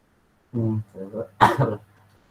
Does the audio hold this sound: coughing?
yes